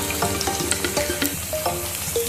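Onion bhaji fry in hot oil on a high flame, a dense crackling sizzle with scattered pops and brief tonal streaks, close and continuous with no talk.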